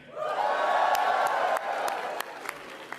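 A political rally crowd in Richmond, B.C., cheers and applauds, a loud swell of voices with sharp whoops and claps that gradually thins out toward the end.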